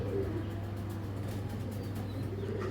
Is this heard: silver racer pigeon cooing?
yes